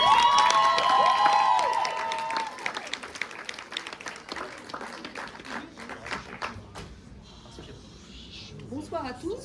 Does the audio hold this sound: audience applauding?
yes